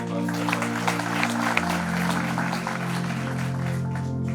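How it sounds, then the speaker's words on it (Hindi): Loud applause from an audience after a speech at a BJP Kisan Morcha event, a steady wash of clapping over a low electrical hum. "जोरदार तालियों के साथ"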